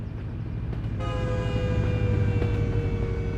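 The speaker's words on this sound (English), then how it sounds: "Oh, a train's coming." A freight train in American Truck Simulator rumbles past on a single-track line, its horn blasting a sustained chord that starts about a second in and holds over the steady rolling clatter.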